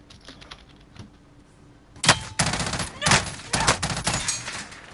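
Bursts of rapid gunfire in Call of Duty: Warzone erupt after a quiet start, several sharp volleys in quick succession, loud and close.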